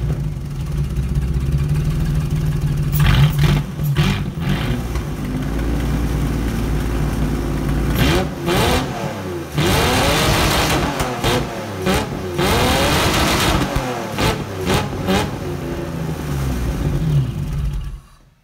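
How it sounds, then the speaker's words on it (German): A BMW V12 M70/M73 engine fitted with 325i fuel injection runs close by, idling steadily and then revving up and down in repeated rising and falling sweeps before cutting off at the end. "So, wie versprochen, V12 Sound"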